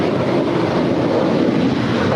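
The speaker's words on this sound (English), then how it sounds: "Departing now is United 2410 off to Houston. It's a 13-year-old 737-900ER." A United Boeing 737-900ER, thirteen years old, departs LAX for Houston: a loud, steady broadband jet roar filling the whole moment without letup, heard from nearby.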